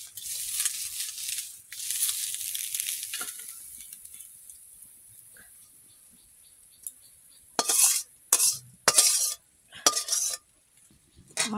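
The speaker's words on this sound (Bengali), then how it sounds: "মাছ ভাজা হয়ে গেছে, কড়াইটা পাকায় দেবো," Fish frying in oil in a kadai gives a bright, steady sizzle at first, then fades into quieter crackling. Near the end, several loud, close metallic clinks and scrapes of a utensil against the pan break through.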